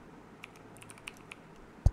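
Typing on a computer keyboard: a handful of light, close key clicks in an uneven rhythm, ending with one louder, heavier keystroke.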